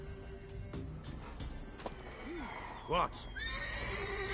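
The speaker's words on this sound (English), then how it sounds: "Worthy of the best horse. The mare is yours." A mare in The Witcher 3 gives a close, rising whinny with a second shorter neigh, while hooves clop softly underneath and a voice briefly speaks.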